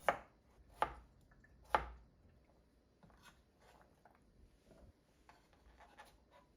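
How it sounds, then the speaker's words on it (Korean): Cucumber sliced with a knife on a small cutting board in a kitchen, three crisp distinct chops at the start followed by faint soft tapping and rubbing, quiet and close. "오이를 깜빡해서 작은 도마 위에서 썰어줍니다"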